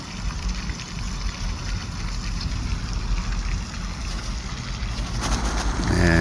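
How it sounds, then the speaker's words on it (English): Water lapping and smacking against a shore in a neighborhood setting, a steady close wash of splashes under wind noise, growing a little louder toward the end. "Let me get closer so y'all can hear the water smacking for real."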